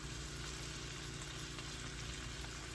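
Mustard-coated pork chops frying in a pan give off a steady, even sizzle and faint crackle, heard close but quietly, unbroken and without talk.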